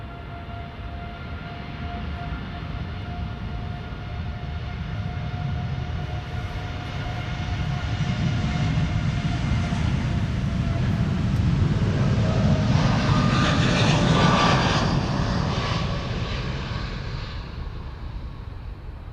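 Air Canada Boeing 787-8, about ten years old, taking off from Amsterdam Schiphol on a flight to Montreal; a loud sustained jet roar builds steadily toward a peak with a rising whine, then slowly eases.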